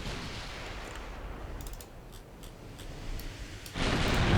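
Naval gunfire in Ultimate Admiral Dreadnoughts, a wash of distant rumbling shots and faint cracks that ends in a louder, broader burst near the close, with no voices.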